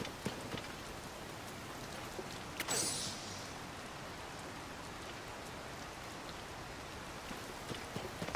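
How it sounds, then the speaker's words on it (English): Soft, constant rainfall patters in Zelda: Tears of the Kingdom, an even, fairly quiet hiss of drops throughout with one brief sharper splash partway through. "Should stop raining pretty soon."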